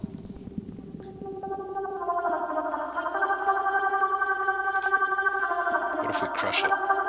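Synth tone run through a MIDI-triggered gated effect in a music production setup, its chopped pattern pulsing rhythmically with chorus and echo coloring, building louder with a brief distorted burst near the end, no talking.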